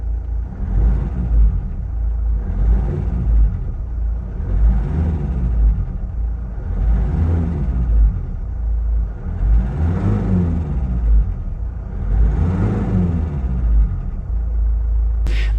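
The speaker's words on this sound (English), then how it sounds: "this car has like a little bit of knocking or tapping noise or sound" Mazda CX5 engine running with a knocking or tapping noise, a steady low rumble pulsing in regular swells about every two and a half seconds, close and continuous without talk.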